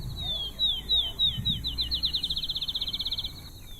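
A field sparrow sings its song: clear whistled notes that speed up into a rapid trill, loud and close over low background rumble.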